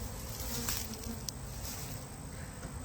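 Honey bees buzz on a hive frame, a dense, steady drone of many insects close by, with faint handling noises mixed in.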